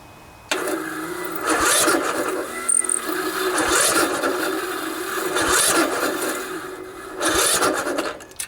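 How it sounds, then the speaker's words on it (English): A single-cylinder Briggs and Stratton OHV small engine cranks repeatedly and struggles to start, rising in several labored bursts of rough, rasping turnover that fade and return without catching, close and fairly loud. "Set the parking brake so we can start the engine without having to sit on it."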